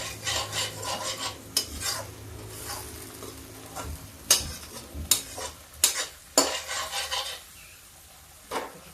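Tomatoes with asafoetida sizzle in a pan, with a low frying hiss punctuated by several sharp clacks of a spatula against metal, close by.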